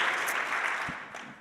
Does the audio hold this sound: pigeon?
no